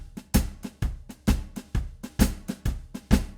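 Early 1940s-style shuffle drum groove on a kit, snare notes accented throughout, played alone with a steady swung pattern of strong and lighter hits over about three seconds.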